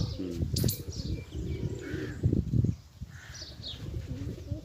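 Pigeons coo close by in low, throaty bursts, with wing flaps and a few faint chirps scattered between the calls.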